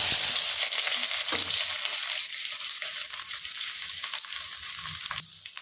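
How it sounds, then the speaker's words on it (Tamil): Four chopped large onions sizzle in a hot kadai for a chicken curry, a loud steady frying hiss with occasional stirring scrapes, easing slightly toward the end. "இப்போது நறுக்கி வச்ச 4 பெரிய வெங்காயத்தை இதோட சேர்த்திக்கலாம்."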